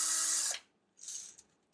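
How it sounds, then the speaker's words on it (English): A power drill runs at steady speed for about half a second and stops, then a second short, quieter burst follows, close by with no talk. "So I should be able to run the drill in here."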